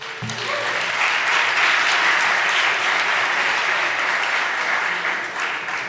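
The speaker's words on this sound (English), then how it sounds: "Applause" Sustained, dense applause from the audience at a startup pitch competition evening, loud and even for several seconds with little variation.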